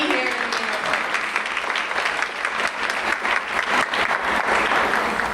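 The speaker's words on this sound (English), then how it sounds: "So can we please give them a round of applause just for being here." An audience at a school community evening event breaks into a sustained round of applause, dense clapping filling the room at a steady loud level throughout.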